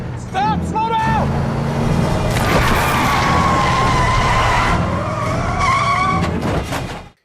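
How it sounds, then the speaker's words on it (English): A truck brakes hard and skids to a stop just short of a car during a San Andreas earthquake scene, with a long tire screech and shouting voices over a loud, dense rumble. "That truck almost rear-ended their car, but then stopped short before it did."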